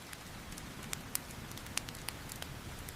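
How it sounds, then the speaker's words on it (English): Monsoon rain falls outside a village house in a soft, faint, steady hiss, with scattered sharp drips and patters landing at irregular moments. "Listen to the rain falling outside."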